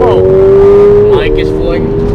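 A Mercedes A45 AMG hot hatch accelerating hard, its engine note climbing steadily in pitch as it revs, loud and close inside the cabin before a brief shift, with a voice briefly heard.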